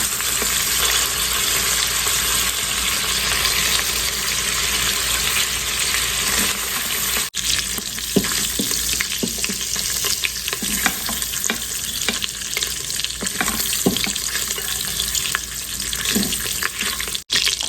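Meat pieces browning in an Instant Pot on sauté for Creole-style red beans and rice give a loud, steady close-up sizzle throughout, with occasional scrapes and clicks from stirring.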